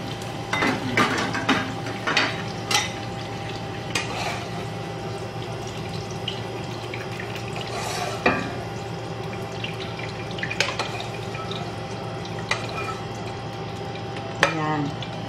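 Ingredients for chicken biryani are sautéed in a pan, a low, steady sizzle broken by repeated scraping and clinking from stirring, close by, with a voice speaking over it.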